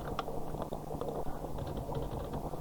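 Someone types a password on a computer keyboard, producing a quick run of light, close key clicks over a steady low background hum.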